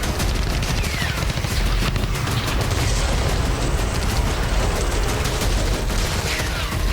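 Explosions and gunfire hit Hezbollah sites in southern Lebanon, a dense, continuous barrage of bursts and booms with no pause.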